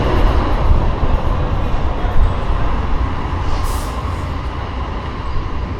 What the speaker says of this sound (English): Wow, 2 trams back to back.